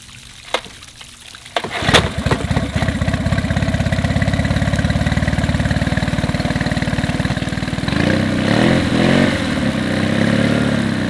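An outboard boat engine, just restarted after a loose spark plug boot was refitted, catches with a sharp start and then idles steadily and loudly up close, its rhythm shifting slightly near the end.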